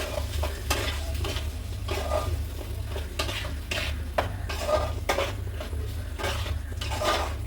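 Spice masala with curry leaves, coriander and green chillies sizzling in oil in a pot, stirred continuously with a spoon scraping and clinking against the metal, close and fairly loud over a low steady hum.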